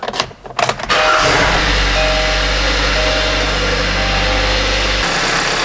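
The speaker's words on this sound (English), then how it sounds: "Let's start it up and see how it sounds." A Kia 2.4L GDI car engine cranks briefly after a spark plug replacement, catches, and settles into a loud, steady idle that hums on without change.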